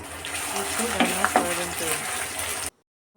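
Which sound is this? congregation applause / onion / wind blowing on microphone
onion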